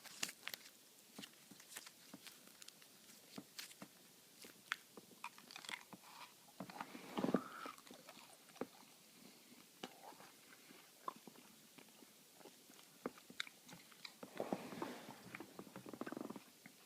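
Gum being chewed during a quiet ASMR ramble, heard as soft, irregular wet clicks and smacks spread across the stretch, close and faint, with no talking.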